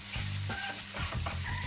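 Soft brown sugar being stirred into onions frying in a pan, giving a quiet, steady sizzle with a few soft scrapes of a utensil. The sound is brief and nearby, with no talking.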